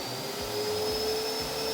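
A pump-driven vacuum line sucks sand out of an alligator pool, a loud continuous roaring whoosh with a steady high whine and low motor rumble throughout.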